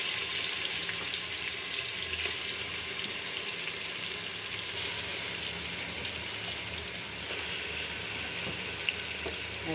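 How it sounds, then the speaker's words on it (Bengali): Meat added to hot oil with garam masala in a pan fries with a steady, close, continuous sizzle and crackle, without any talking. "এখন মাংস দিয়ে দিব।"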